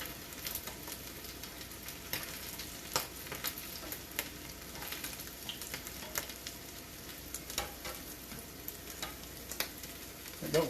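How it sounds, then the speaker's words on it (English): Filipino lumpia fry in hot grease, giving a continuous fizzing sizzle with scattered pops and crackles, fairly quiet and close, with no talking. "All that grease going down in the ends."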